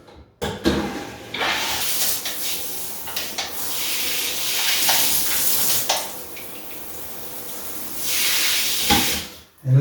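Water sprays from the foot spray of an Emke shower column in a renovated bathroom, a steady hissing rush that runs for several seconds, briefly interrupted and shifting in strength, with no one talking.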